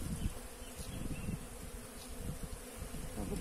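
A honeybee swarm living in a tree in the city makes a dense, steady buzz that is close and fairly faint, with no voices.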